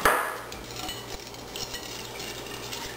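Sugar being mixed into a bowl with oil while making whole wheat buns, a soft continuous scraping and stirring close by, steady and fairly quiet with small clinks against the bowl.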